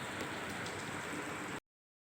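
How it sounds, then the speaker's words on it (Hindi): Heavy rain pours steadily in a dense, hissing wash, close and constant, with no voices. "देख रहे हो इतनी बारिश हो रही है, इतनी बारिश हो रही है।"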